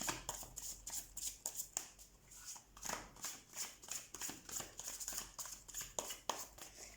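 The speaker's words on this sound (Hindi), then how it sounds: "तो सबसे पहले हम कार्ड शफल कर लेते हैं आपके लिए।" Tarot cards being shuffled by hand, a quick series of crisp riffling flutters and soft slaps in an irregular rhythm, close and fairly quiet, with no talk.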